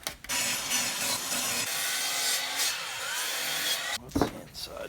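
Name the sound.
sawing birch plywood for a bookshelf base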